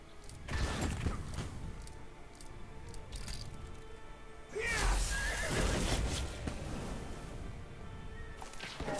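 In the Onslaught strategy game on the Grim Peaks level, horse units neigh loudly amid a clattering battle, with crunching and crashing hits and no voices.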